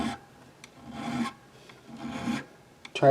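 A file rasps along the fret edges of a Hondo Deluxe Series 781 guitar in two slow, close strokes with a quieter scrape between them, ending in a sharp knock.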